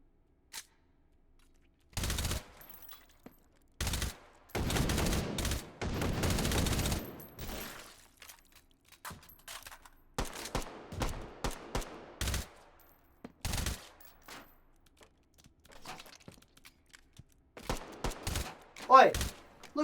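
Gunfire in the H3VR virtual reality shooter: loud, dry bursts and single shots separated by silent gaps, with a rapid cluster near the start and scattered shots later.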